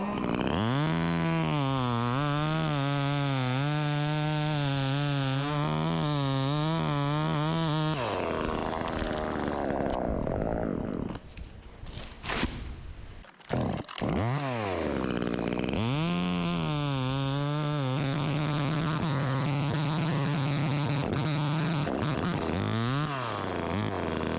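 A cheap Jiggly Dog chainsaw roars at high revs while making a face cut in wood, then briefly drops and sputters before revving back up and bogging into the cut again, loud and close.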